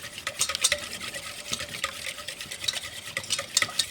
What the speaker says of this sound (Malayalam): തൈര് നല്ല രീതിയിൽ നമുക്ക് സ്മൂത്താക്കി എടുക്കണം, അടിച്ചെടുക്കണം